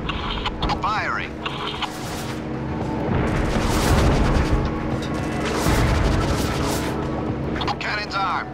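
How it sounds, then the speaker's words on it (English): The main cannon fires in Syphon Filter: Logan's Shadow, heavy booms and rumbling blasts swelling twice over game combat noise, with radio voices talking throughout. "Cannon's armed. Take out that target. Bringing main gun to bear. Firing."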